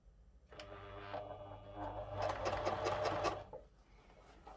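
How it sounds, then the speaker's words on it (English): Sewing machine top stitching a seam on a cloche hat, a close, fast mechanical whirring that starts moderately, speeds up and grows louder midway, then stops abruptly. "now top stitch all around here, sewing as close as I can to the seam"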